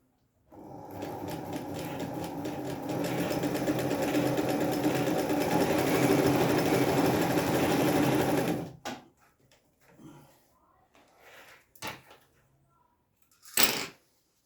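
A Singer Felicita sewing machine stitches zigzag in a rapid close mechanical whir for about eight seconds, then stops, followed by a few brief clicks and a short burst of handling noise.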